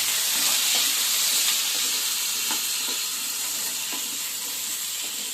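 Small cut potatoes sizzling in hot oil in a pan with black cumin seeds as they are stirred, a steady close sizzle broken by light scrapes and clicks of the spoon, no talk.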